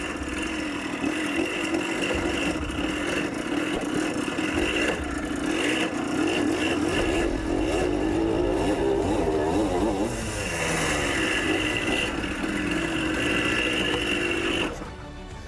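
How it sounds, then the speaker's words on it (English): A 50-year-old dirt bike engine buzzes steadily on a test ride, its revs rising and falling in a continuous close mid-pitched drone before cutting down near the end. "With the bike now running, Sean can finally take it for a spin to try and figure out what the problem is."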